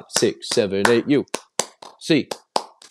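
Rhythmic hand clapping from Bruins fans keeping time in a chant, sharp separate claps between spoken counting and shouting voices, close and fairly loud.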